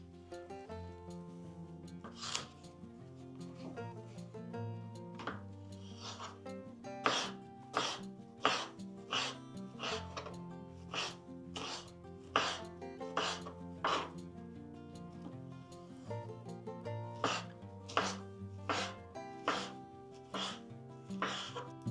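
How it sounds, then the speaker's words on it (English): A knife chops Czech špekáček sausage and onions into small pieces on a board in a countryside kitchen, with regular, evenly spaced thuds growing steady after a few seconds, accompanied by soft background music. "we're gonna start with cutting sausages and onions into little pieces"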